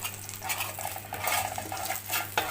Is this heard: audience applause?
no